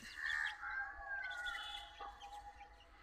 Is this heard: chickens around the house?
yes